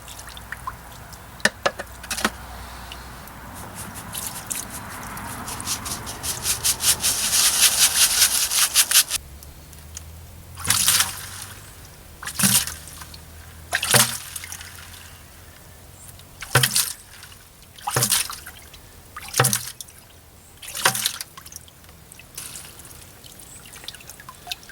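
Dredged river material being screened with water, a sustained wet rubbing and trickling wash for several seconds, then a series of separate sharp scraping pulses spaced a second or two apart, close and fairly loud with no talking.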